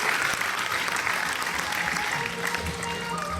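Generous audience applause at a silver jubilee celebration, as a spouse receives an honour on someone's behalf: continuous dense clapping from a crowded hall, steady throughout with faint voices beneath it.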